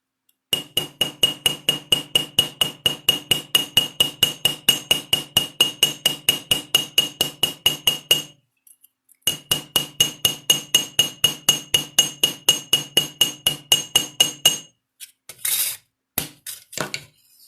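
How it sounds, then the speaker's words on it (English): A hammer strikes a copper rivet head on a copper business card holder in long runs of rapid, evenly spaced ringing metallic taps, pausing briefly midway, then ending with a few scattered knocks. "You would think that I'm hitting the other metal around here, but I'm not. It's just going right on the rivet head."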